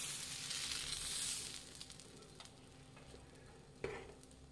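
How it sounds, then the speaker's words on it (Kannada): Thick Davangere benne masala dosa batter spreads on a hot griddle with a soft, steady sizzle, dotted with faint ticks and a small clatter near the end. "ಹೆಂಚು ಕಾಯ್ದಿದೆ. ಈಗ ದೋಸೆ ಹಾಕ್ಕೊಳ್ಳೋಣ"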